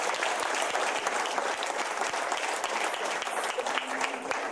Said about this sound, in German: Ja, Applaus mal.